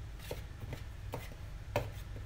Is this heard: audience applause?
no